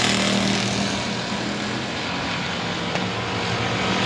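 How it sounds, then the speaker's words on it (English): Race car engines at I-37 Speedway roar steadily from a dirt-track field at speed, a loud, dense and continuous drone with no voices over it. "Lights are out, revving up those engines. Here they come, roaring at you."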